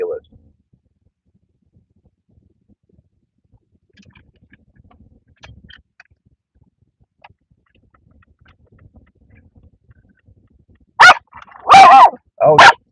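A dog lets out a few loud, sharp barks in quick succession near the end, after a long stretch of near silence with faint scattered noises.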